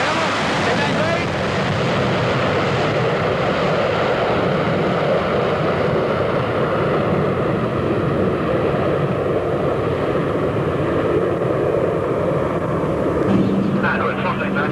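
At the 1986 Texas Air Expo in Waco, a Concorde's jet engines roar in a broad, continuous rumble as it takes off at the air show, with wind buffeting and people talking over it.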